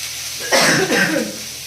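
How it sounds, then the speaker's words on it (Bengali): A single harsh cough bursts out close by, rough and breathy, then trails off into quiet room noise. "প্রচণ্ড কাশি হচ্ছে সকালবেলায়"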